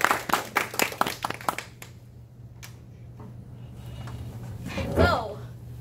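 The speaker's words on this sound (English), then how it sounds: "let's give a big applause for Amanda" Toastmasters audience claps for a speaker: a short burst of distinct, fairly close handclaps that fades within two seconds, followed by quiet room tone, a lone clap, and a faint voice near the end.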